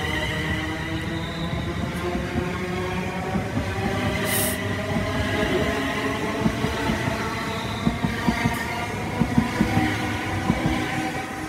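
A London Northwestern Railway train pulls out of Watford Junction on the West Coast Main Line, a sustained rumbling motor hum with steady tonal whine and occasional clanks and squeals building gradually, fairly close.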